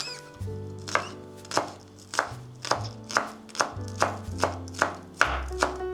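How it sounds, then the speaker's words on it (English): Steady, close knife chops of fresh onion on a cutting board, about two per second, crisp thuds repeating over a quiet background with no talking. "Finely chopping the fresh onion."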